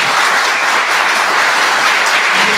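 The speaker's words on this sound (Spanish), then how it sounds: "Fuerte el aplauso" A crowd at a commemoration ceremony applauds, dense continuous clapping that holds steady and loud for the whole short stretch, with no voices over it.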